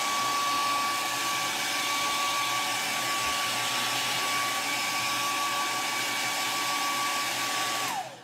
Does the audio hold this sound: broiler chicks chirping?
no